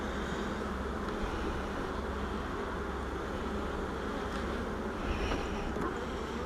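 Honey bees swarm around an opened hive, a dense, continuous buzzing that fills the air close by, steady throughout with no talking.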